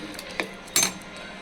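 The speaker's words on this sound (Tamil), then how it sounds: "ஸ்லோ ஃப்ளேமில் வச்சு சாப்பாடை கிளறி விட்டுட்டு இருப்போம்" A spoon knocks against a pot of sambar rice being stirred on a slow flame, two distinct metallic clinks over a faint background hum.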